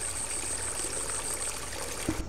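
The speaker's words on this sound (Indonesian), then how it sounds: "Suara air ya." Water flows and trickles steadily at a low level, with a faint high whine and a soft bump at the end.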